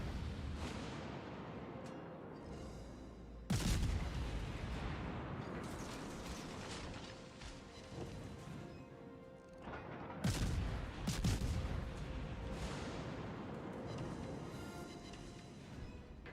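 Heavy naval gunfire from a Bismarck battleship in World of Warships: Legends, with deep booming salvos around four and ten seconds over a continuous low rumble of battle and engine noise, no talking.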